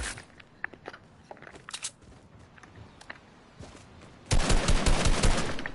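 Video game gunshots: sparse, faint pops and clicks scattered over a quiet background, then a sudden loud burst of rapid fire that continues to the end.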